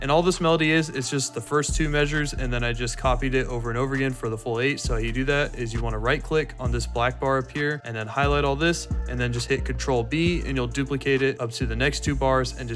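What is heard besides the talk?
No everyday noise stands out behind the speech.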